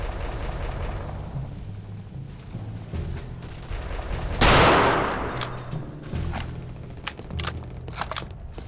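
Enemy soldiers fire guns in the shooter game Return to Castle Wolfenstein, with rumbling background gunfire, one loud burst in the middle and a scatter of sharp, fairly close shots afterward.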